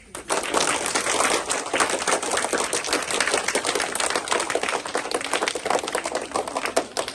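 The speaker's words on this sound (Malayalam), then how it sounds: "നല്ലൊരു കയ്യടി കൊടുത്തേ" Applause at a government upper primary school in Parappa, greeting the release of a school wall newspaper on Basheer Day; steady, dense clapping from a group of children fills the whole stretch.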